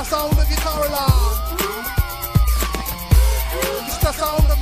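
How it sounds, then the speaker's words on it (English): A car alarm siren used as a sound effect within a UK rap track, its whooping electronic tones sweeping up and down over a heavy beat with thumping bass hits, loud and continuous throughout. "It's the sound of your car alarm."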